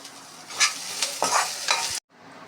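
Coconut paste ground on a stone grinder is stir-fried in a pan, giving a loud, close sizzle broken by several scraping strokes before cutting off suddenly, then a faint hiss.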